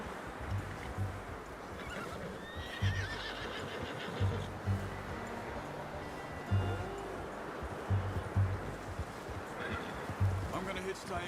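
Horses whinnying and snorting in the video game Red Dead Redemption 2, several agitated neighs and hoof clops at middle distance under ambient outdoor noise, with a voice speaking in between.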